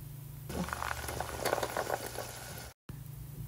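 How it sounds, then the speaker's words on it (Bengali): Boiled chickpeas simmer and sizzle in masala in a pan, a steady bubbling hiss with small pops that starts abruptly and holds, then cuts out briefly before a quieter tail. "বুট সেদ্ধ করে নিয়েছি এবং এটা এখন"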